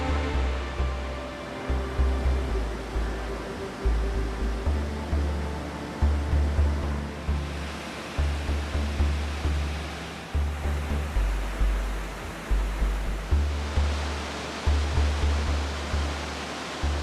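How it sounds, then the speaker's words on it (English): Waterfalls in an Argentine tropical rainforest roar as a dense, continuous rushing wash, loud and close, with no voices. "There are 275 individual falls in all sizes and surrounded by a tropical rainforest full with life"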